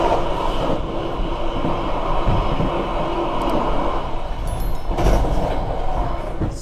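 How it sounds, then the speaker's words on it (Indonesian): Brawijaya executive passenger train arriving at Kediri station in the evening, heard from inside the carriage as a loud, continuous low rumble and rattle with occasional clanks and squeals. "Kereta api Brawijaya sudah tiba di stasiun Kediri."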